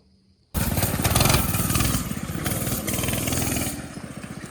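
Homemade jalopy go-kart engine, loud and close, starting abruptly then buzzing steadily as the kart drives around a yard, with slight rises and dips in revs.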